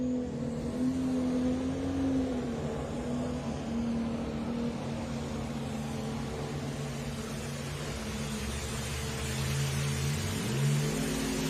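Pro Stock pulling tractors at a drag race during a tractor pulling championship hold a loud, sustained engine roar, with the pitch wavering as the engines rev and strain throughout.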